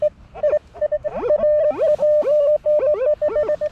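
Metal detector sounding a signal on a beach near the Grand Hotel in Sopot: a steady mid-pitched electronic tone, close and alone, broken by quick repeated warbling chirps and short gaps.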